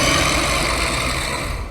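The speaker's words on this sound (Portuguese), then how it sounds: "Mas não era só o ronco do motor que eu ouvia." A truck engine rumbles steadily up close, a dense low idling drone with mechanical vibration that holds level throughout and eases slightly at the end.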